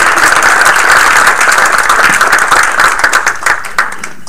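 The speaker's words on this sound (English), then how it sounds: "I want to give you a clap" An audience at a township council meeting claps for an honoree, a dense burst of applause that thins out toward the end, with no voices over it.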